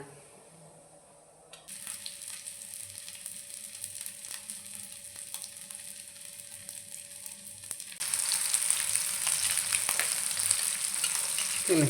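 Kingfish (anjal) fries in a pan with a steady, close hiss and crackle that swells noticeably louder toward the end, with no talking.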